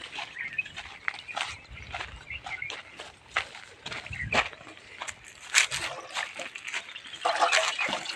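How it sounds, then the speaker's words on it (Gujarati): Cold tap water is poured into a clay bird water pot, making irregular splashing and trickling that stays moderately loud and steady throughout. "આપણે નલકા પાણી નાખી દઈએ"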